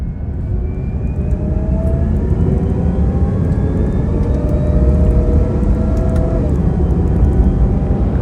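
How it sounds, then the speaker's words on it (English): A 2012 Bugatti Veyron Grand Sport pulls out of the Wynn parking garage, giving a loud, steady engine drone with rising whine tones that builds slightly and holds throughout, with no talk. "pulling out of the Wynn parking garage in my 2012 Bugatti Veyron Grand Sport"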